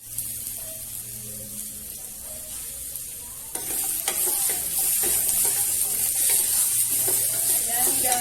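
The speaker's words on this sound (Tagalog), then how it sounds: "mag-fry tayo ng gulay" Mixed vegetables, string beans, eggplant and okra, sizzle steadily in a hot pan while being stirred. The frying hiss jumps louder partway through and carries on with scraping stir strokes, up close and without talk.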